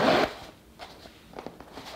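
A zipper on a handmade sewn make-up pouch with two handles and a stitched lining gives one quick, close rasping pull at the start, followed by soft faint handling sounds.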